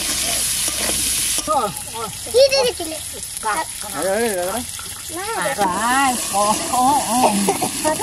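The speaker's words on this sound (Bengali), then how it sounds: "এইবার আলুটা একটু ভেজে নেব" Potatoes fry in a pan for a home-cooked sea crab dish, giving a steady hiss that starts loudly partway through and continues beneath a voice talking throughout.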